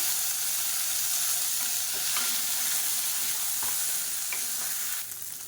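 Garlic cloves and small slit green chilies fry in oil in a pan, giving a steady, loud, close hiss with occasional stirring scrapes and no voices.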